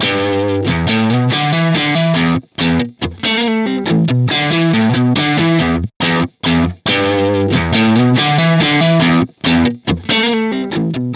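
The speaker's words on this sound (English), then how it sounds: "this gives you a completely variable pot to dial in exactly how much of that speaker distortion you want" Heavily distorted electric guitar through a Softube Celestion Speaker Shaper plugin plays choppy riffs with gritty, fuzzy speaker distortion, chords cutting off in brief silent gaps.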